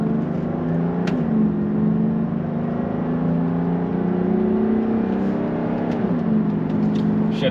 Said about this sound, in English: Now we're gonna show the acceleration. The 350, 300 SDL.